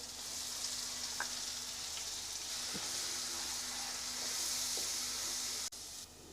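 A coriander leaf, green chili and onion paste sizzles steadily in a hot pan for an egg curry, a constant close frying hiss with faint stirring clicks and a brief dip near the end.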